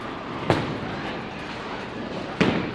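A Radical Rattler urethane bowling ball thrown on a house shot, with two sharp crashes as it reaches the pins over the steady hum of a bowling alley.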